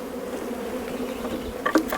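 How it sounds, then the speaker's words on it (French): Honeybees buzz steadily on a brood frame lifted from the hive, a close continuous drone with a few brief sharper bursts near the end. "je laisse les abeilles sur le cadre"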